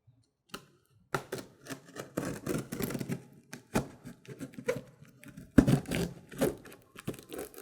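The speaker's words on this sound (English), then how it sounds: "come see how we cut the slots here, as we hope to unveil what is inside." Cardboard box of a Dell G5 gaming computer being cut open, a run of scratchy slicing and tearing strokes with sharp snips and crinkles at close range, no talk.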